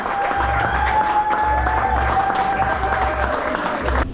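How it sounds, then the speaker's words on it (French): Concert audience applauding, a dense steady wash of clapping from a large crowd, with a sustained musical tone and low rhythmic thumps running underneath. "sous vos applaudissements"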